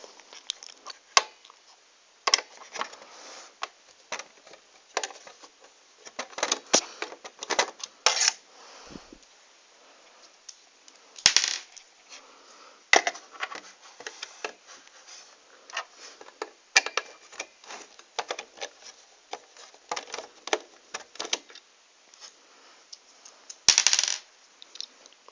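Screws being undone on an Xbox disc tray produce sparse, quiet metallic clicks and ticks in irregular bursts, close up and alone.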